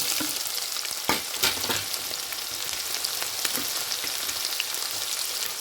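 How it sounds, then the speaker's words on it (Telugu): Onion pieces with green chillies frying in a pan, a continuous close sizzle with occasional sharp crackles and stirring scrapes, steady and fairly loud. "ఉల్లిపాయ ముక్కలు కూడా వేసేసుకున్నాను"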